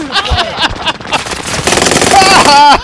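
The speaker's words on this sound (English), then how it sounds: "That gun has no real quick recoil." Rapid automatic gunfire from a first-person shooter video game, a dense loud burst that builds to a sustained rattle, with excited voices and game sounds around it.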